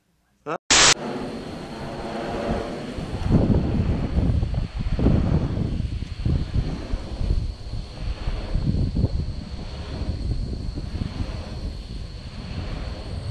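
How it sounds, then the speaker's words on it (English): Wind rushing past huge wind turbine blades, about 100 feet long each, heard outdoors as a loud steady roar with rhythmic whooshing swells and heavy wind buffeting on the microphone after a brief click at the start. "you can just hear the wind whipping off those blades, which are about 100 feet long apiece"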